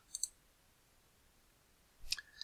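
Mouse clicks on a save button, a quick pair of sharp clicks near the start and another cluster near the end, close and crisp against near silence.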